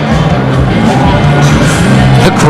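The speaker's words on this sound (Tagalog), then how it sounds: "the crowd inside the Mindanao Civic Center" Basketball crowd inside the Mindanao Civic Center during a PBA game between Alaska and Ginebra, a loud, steady wash of cheering and shouting voices that stays dense throughout.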